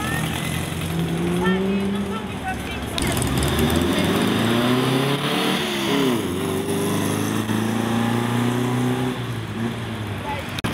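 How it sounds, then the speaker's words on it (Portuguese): A Jaguar XJ8 car with a V8 engine drives past in a busy street scene, its engine note rising and falling over roughly ten seconds amid other traffic noise. "O XJ8, se eu não me engano é motor V8, né?"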